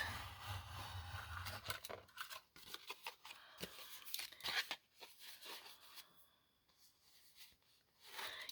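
Scissors snipping through paper while trimming a gingerbread-themed journal page, a run of close, quiet cuts and rustles that come in short bursts, fade, then pick up again at the end.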